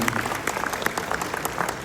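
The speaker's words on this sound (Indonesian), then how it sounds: "Tepuk tangan dong buat Prof Renal Kasali ini." Dense, steady applause from a large seated audience of YouTubers greets Prof. Rhenald Kasali at a talk event, with even clapping and no voices heard.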